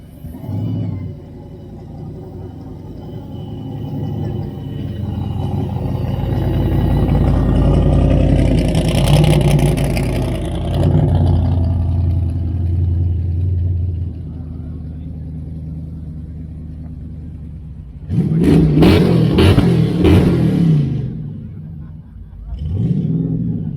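A David Brown tractor engine runs at a steam rally in Shrewsbury, a steady low rumble with a louder revving burst near the end, while voices talk in the background.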